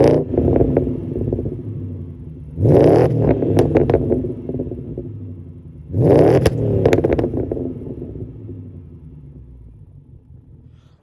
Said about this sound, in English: the noise it provides on the 650i because of the V8